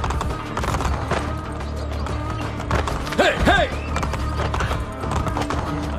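Horse galloping in the video game Assassin's Creed Brotherhood, with steady, close hoofbeats and a brief whinny near the middle over game ambience.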